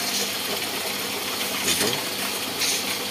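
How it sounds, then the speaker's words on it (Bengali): A motor-driven drum turns in a puffed-rice (muri) roasting factory, making a steady, loud mechanical rattle and grinding with ratchet-like clicks that continues throughout. "এটা মোটর সাহায্যে ঘুরছে এক এক করে।"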